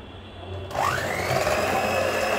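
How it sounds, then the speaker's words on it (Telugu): An electric beater starts up partway through, whirring steadily as it beats 100 grams of softened butter for a marble cake, loud and close with a rising pitch, with no talk. "దీనికి 100 గ్రామ్స్ సాఫ్ట్గా ఉండే బటర్ని తీసుకుని బాగా బీట్ చేయండి"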